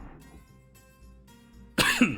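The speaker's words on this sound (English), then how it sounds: "I don't know where that cough came from." A single harsh cough bursts out near the end, loud and close, after a stretch of quiet faint background tones.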